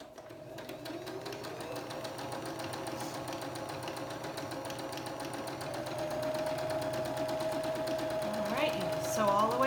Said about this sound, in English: And you're gonna sew down the long side.